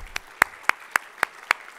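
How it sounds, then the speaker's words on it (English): Clapping at a luncheon event for the team of McAllister and McCune comes as seven crisp, evenly spaced claps, close and distinct, with near silence between them. "Let's give a big round of applause for the team of McAllister and McCune."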